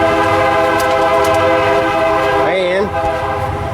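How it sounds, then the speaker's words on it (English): A train passes close by with a loud, steady rumble of rail cars, and a horn blast sounds partway through before the noise begins to ease. "Damn train."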